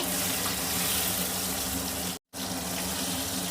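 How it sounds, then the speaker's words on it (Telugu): Tomatoes frying in a pan, a steady, dense sizzle heard close up that cuts out for a brief moment before resuming, with no voices. "టమాటాలు వేసి వేయించుకుందాము"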